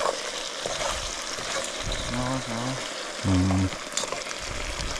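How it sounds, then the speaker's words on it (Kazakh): Potatoes frying in oil left over from frying carp crackle at a low, soft, steady level, with a couple of short tonal beeps partway through. "Мынаяқтан қазір картошка қуырылып жатыр."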